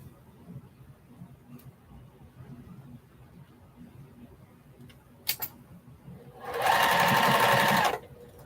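A sewing machine stitches quilt block seams for a 4-Star General quilt, a short loud burst of rapid stitching near the end after a quiet stretch with light handling noises.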